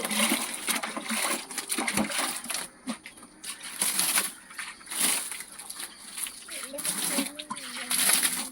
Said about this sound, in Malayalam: തൊണ്ട് നമുക്ക് നല്ലതുപോലെ ഒന്ന് വെള്ളം ഒഴിച്ച് നമ്മൾ നനച്ചിട്ടുണ്ട്